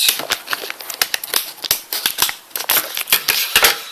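Close, crisp snipping and crunching as scissors cut through the packaging of a Corsair AX860i power supply, in a rapid irregular series of sharp clicks.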